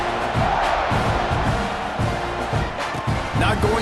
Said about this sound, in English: this crowd is buzzing after that last